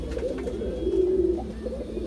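Green Madrasi pigeons coo in a close, continuous low warble that swells in the middle and tapers off, steady throughout with no talking.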